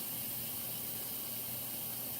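Steam hisses steadily from a pressure cooker's release valve as the pressure is let off after cooking, a continuous broadband whoosh that stays even throughout with no talk.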